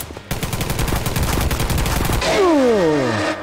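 Machine gun fire in Garry's Mod, a loud rapid burst of evenly spaced shots for about two seconds, followed by descending whooshing sweeps.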